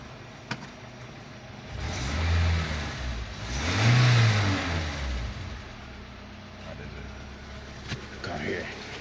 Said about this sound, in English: It's a cool running engine.